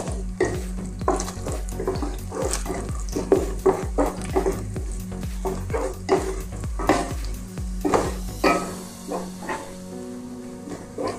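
Four dried chillies hit hot oil in a pan while vegetables are cooked Chinese-style, giving a close, bright sizzle with rapid, rhythmic stirring and scraping strokes throughout.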